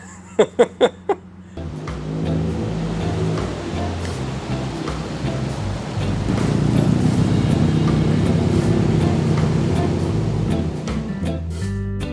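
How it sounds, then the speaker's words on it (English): A car doing a burnout, with a loud, rough roar that kicks in suddenly after a brief quiet moment and builds into sustained noise that stays strong to the end. "He wasn't kidding he was going to do a burnout"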